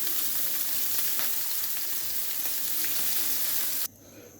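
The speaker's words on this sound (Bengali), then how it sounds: "মাছগুলো ভালো করে ভেজে নিব।" Tangra fish fry in hot oil in a pan, turned once, giving a dense, steady, close sizzle that runs unbroken for nearly four seconds and then cuts off abruptly to near quiet.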